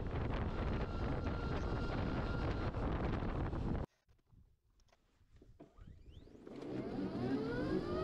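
The Murtas TX EVO, an electric 125 trail motorcycle, accelerates. Heavy wind rush gives way to a brief lull, then a rising electric motor whine climbs in pitch as speed builds under returning wind noise.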